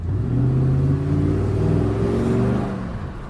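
A 2007 Chevy Avalanche truck accelerating: a steady, loud mid-range engine drone heard from inside the cab, with pitch climbing smoothly across a few seconds and no talking.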